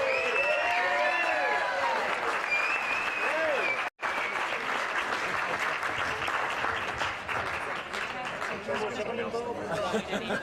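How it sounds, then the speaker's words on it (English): A crowd at a charity classic awards gathering breaks into sustained applause, loud and close, with whoops, cheers and chatter mixed in and continuing for about ten seconds, a brief dropout partway through. "Give another round of applause"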